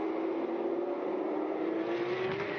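Porsche Carrera Cup race car at Sepang circuit, its engine holding a steady loud drone with a rising pitch over the whole stretch, no voices.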